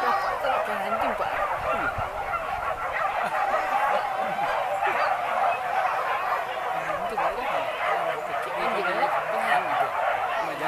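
A pack of hunting dogs barks and yips continuously during a wild boar hunt in the forest, a dense, busy chorus of overlapping barks with people talking and calling throughout.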